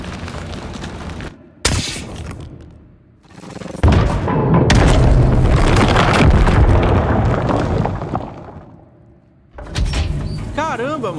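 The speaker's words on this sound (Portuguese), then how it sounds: "Eu vou ter que atirar uma granada aqui dentro?" A grenade explosion inside an enclosed chamber in the game Scorn, a sudden loud boom near the middle with rumbling decay, surrounded by other thuds and someone talking.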